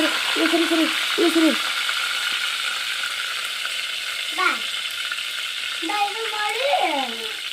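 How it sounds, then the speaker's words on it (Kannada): Garlic and coriander frying in a little oil at a village cookfire, giving a steady, fairly loud sizzling hiss throughout, overlaid by intermittent tonal hoot-like calls or voices. "ಕೊತ್ತಂಬರಿ ಹಾಕ್ಕೊಂಡು ಒಂದು ಸ್ವಲ್ಪ ಎಣ್ಣೆಗ ಚೆಂದಾಗಿ ಬೆಳ್ಳುಳ್ಳಿ ಕೆಂಪಗಾಗಂಗೆ ಇದು ಮಾಡ್ಕೊತೀನಿ ರೀ"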